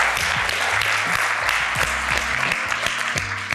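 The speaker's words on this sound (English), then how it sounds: "can we give them a big round of applause for this" Loud, sustained clapping from an event audience at the Omni resort in Austin, Texas, a steady wash of many hands with some low voices and music murmuring underneath throughout.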